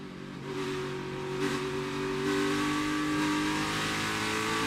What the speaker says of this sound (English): listen to the throttle of Denny Hamlin